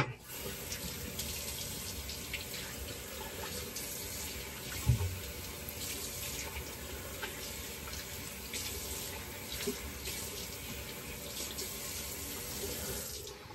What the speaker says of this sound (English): let me just do a quick rinse and then we'll do a cleanup